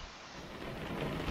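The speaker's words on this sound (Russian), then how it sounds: "Вот у нас тут идет дождь" Rain and a low rumble of thunder in the truck-driving game Euro Truck Simulator 2, a continuous soft hiss with deeper rolling underneath, faint and with no talk.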